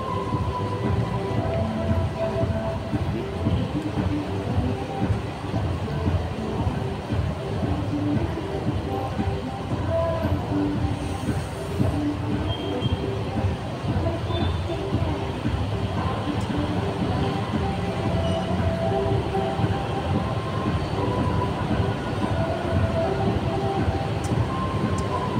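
A train rolls past in a steady, loud wash of rumble and rattle that holds for the whole stretch without a break, heard close by.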